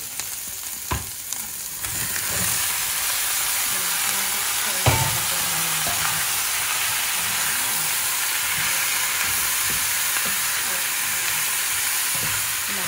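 Bok choy and other vegetables stir-frying in a pan with garlic and onion, a steady loud sizzle and hiss with occasional clatters of stirring, and no talking.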